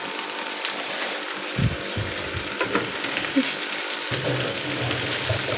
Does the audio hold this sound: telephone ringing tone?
no